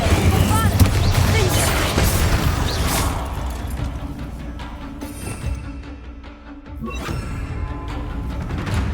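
Bombarda spell blast in Hogwarts Legacy, with a booming explosion and crashing debris among other spell effects and game noise while a character calls out spell names.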